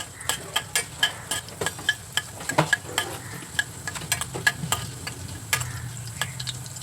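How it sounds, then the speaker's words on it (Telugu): Coriander seeds fry in hot oil, a soft continuous sizzle broken by frequent sharp scrapes and taps of a spoon stirring against the pan, close and fairly quiet, with no voices. "ఆయిల్ వేడెక్కిన తర్వాత కొంచెం ధనియాలు దోరగా వేగాలి"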